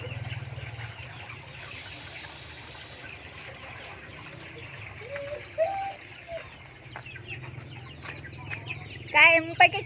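Chickens clucking close by on a farm, scattered soft clucks and a few sharper calls near the end, over a low steady background hum with faint voices.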